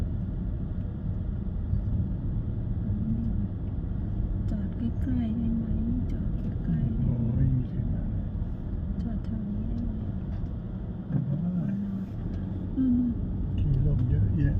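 A heavily loaded vehicle arriving from Ubon Ratchathani at a cave temple gives off a steady, deep engine rumble that drones throughout, with people talking over it.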